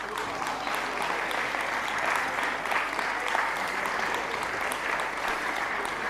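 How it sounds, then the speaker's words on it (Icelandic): Audience applause at a bench press competition in a hall, a dense, steady clapping from a crowd that continues evenly throughout without pause. "Þeir sem eru í salnum hafa ákveðið hlutverk sem er að klappa og fagna"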